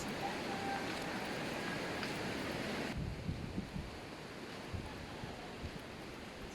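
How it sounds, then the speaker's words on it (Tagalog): Rough, choppy sea at a seaside spot in Barangay Malobago, Cataingan, Masbate, heard as a steady broadband wash of surf with wind noise, louder in the first half then lower with scattered splashes. "ang dagat ngayon, medyo maalon"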